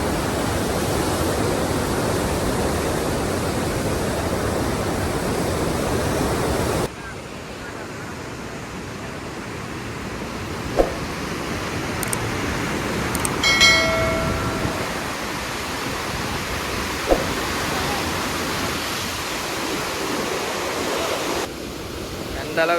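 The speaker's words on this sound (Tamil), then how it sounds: "எந்த அளவுக்கு தண்ணி போகுது பார்த்துக்காங்க." River water rushing through the Koneripatti barrage after its gates open, a loud broad roar that drops abruptly to a quieter steady wash partway through, with a few brief knocks and some faint voices.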